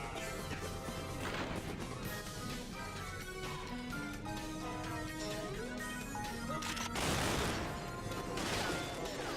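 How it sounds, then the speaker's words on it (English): Gas tanks explode in the 007: Nightfire video game: repeated crashing blasts over game music, with a heavy burst near the middle. "Are these explosions all the bombs you put down a minute ago?"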